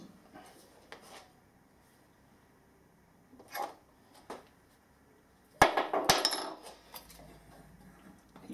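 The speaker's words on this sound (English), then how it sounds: "I need to go and find myself a hammer and tap that in" Metal hammer taps on a compressor motor during reassembly in a workshop, a few sharp isolated strikes early on, then a louder cluster of ringing impacts and clatter near the end.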